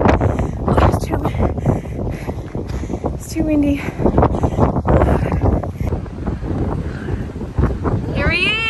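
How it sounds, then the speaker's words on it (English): Strong wind buffets the microphone in heavy, rumbling gusts, with brief voices mixed in under the roar. "Huge headwind going that way. Like, massive headwind."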